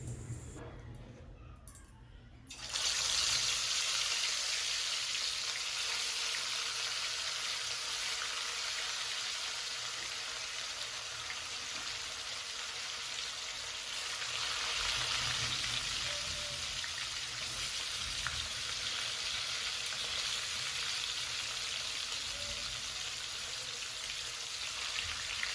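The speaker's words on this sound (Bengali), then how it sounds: "তেলটা খুব সুন্দর গরম হয়ে গেছে, এবার মাছগুলোকে আস্তে আস্তে ভেজে নেব" Snakehead fish frying in hot oil in a home kitchen, a steady loud sizzle and crackle that bursts in after a short quiet opening and continues evenly throughout, with no talk.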